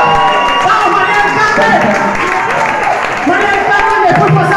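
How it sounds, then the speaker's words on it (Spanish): Concert crowd at a live medley show applauding and cheering loudly throughout, with a dense wash of clapping and shouts under a speaking voice and some music. "¡Fuerte aplauso!"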